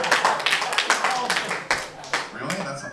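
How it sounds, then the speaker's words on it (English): A comedy-show audience gives a short, thin round of clapping, with scattered hand claps over about three seconds and a voice talking through it. "That's applause?"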